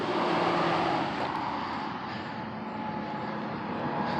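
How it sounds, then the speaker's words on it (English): A large airplane passes overhead above a cemetery in Markham, Ontario, its broad, steady roar filling the air and loudest at first before easing slightly. "Oh wow, a giant airplane right above me."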